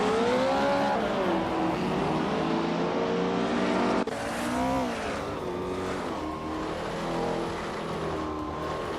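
Race car engines drone loud and close in a racing video game, including a 1966 McLaren M1B, with a high whine rising and falling through gear changes and an abrupt shift midway as another car roars in.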